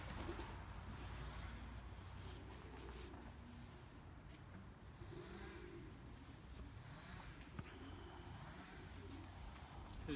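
Pigeons in a Belgian racing pigeon loft coo softly and repeatedly in low, rolling phrases, a steady murmur over a faint background hum.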